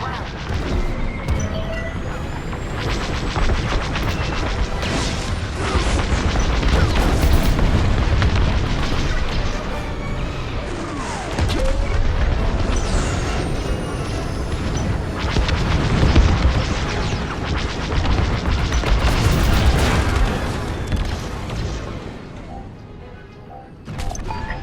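A Consanti cruiser exploding in the space-combat video game Star Wars: Squadrons: sustained loud rumbling booms and crashing blasts for over twenty seconds, dense and continuous with swelling peaks.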